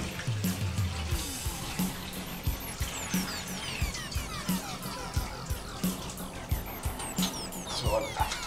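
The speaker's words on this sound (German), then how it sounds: "Also ich persönlich wasche Reis lieber. So, durchkneten." Rice for Japanese chicken curry is washed and kneaded by hand in water, giving wet grainy scrunching and sloshing in repeated rhythmic squeezes, close and steady throughout without speech.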